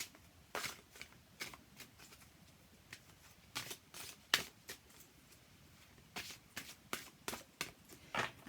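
Cards riffle in quick, crisp bursts, several shuffles in a row with short pauses between, close and fairly quiet.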